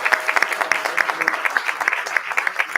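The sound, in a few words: round of applause at town board meeting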